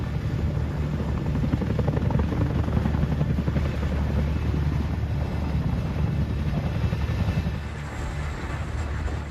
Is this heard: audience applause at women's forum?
no